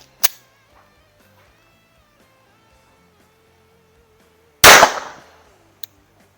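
A Sig P365 pistol fires .380 ammunition: two sharp, loud shots several seconds apart, the second with a longer ringing tail, then a faint click, with near silence between them.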